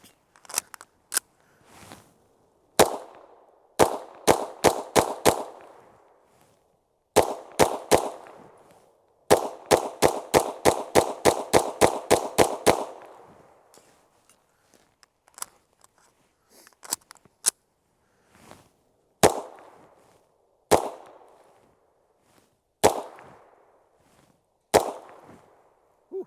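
Rapid volleys of sharp, close pistol shots from an OA Defense 2311 Pro firing 147 grain Federal ammunition, crisp reports in quick strings and single shots with brief pauses between bursts.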